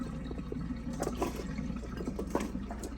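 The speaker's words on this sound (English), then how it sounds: "So what I do is I drain them from water here." Water pours and splashes as soaked cut potatoes for French fries are drained, a continuous trickling wash with small drips and sloshes, close by and without talk.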